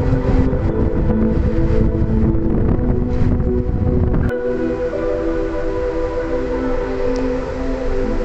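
Steady, loud rumble and clatter of a moving passenger train near Bandel, heard from inside a carriage, with wind buffeting throughout and a sharp change in tone about halfway through; no one speaks.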